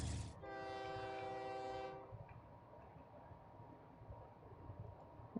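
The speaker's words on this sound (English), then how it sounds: "So we got Choo-Choo's train" A video game train sounds a long, bright horn blast over rumbling wheel noise, then keeps rolling quietly once the horn stops. No one talks.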